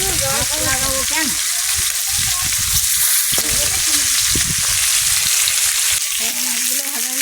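Fish pieces frying in hot oil, a steady loud sizzle running throughout with a few scraping stirs, while people talk over it.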